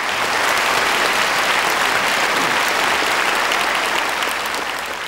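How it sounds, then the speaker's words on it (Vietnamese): Steady, dense audience applause on a Vietnamese televised comedy game show with a wheel-of-fortune style segment, loud and sustained for about five seconds with no talking over it. "Vỗ tay cho chị giáo dục."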